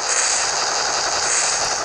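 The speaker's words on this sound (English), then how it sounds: "let's park our helicopter in here and let's get inside" A helicopter engine in the video game Anger of Stick 5 drones steadily, a loud continuous whine and roar with no break and no voices.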